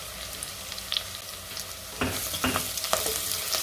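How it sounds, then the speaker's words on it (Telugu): A dry fish curry with chili powder, for a bottle gourd dish, is stirred in a pan, soft sizzling at first, then louder scraping and clattering stirs through the second half. "ఇప్పుడు బాగా కలిపెట్టుకోండి."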